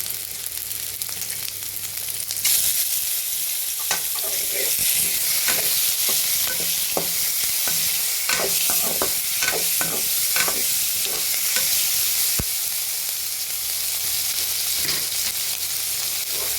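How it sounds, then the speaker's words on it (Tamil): Curry leaves and ginger garlic paste fry in hot oil, a bright continuous sizzle broken by sharp scraping stirs and clinks of a spoon against the pan, close and steady. "கருவேப்பிலை, சமயத்தில் இஞ்சி பூண்டு பேஸ்ட் ஆட் பண்ணிக்கணும்"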